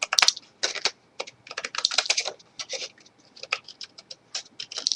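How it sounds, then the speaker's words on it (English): Small scissors snipping little letters off a paper craft tag, a rapid run of short crisp clicking cuts, close and dry with no talk. "I'm just going to go ahead and cut all these little letters off."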